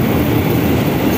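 The Taksaka passenger train runs at speed on the Jakarta–Yogyakarta route, heard from inside an executive carriage as a loud, steady rumble with continuous wheel and track noise.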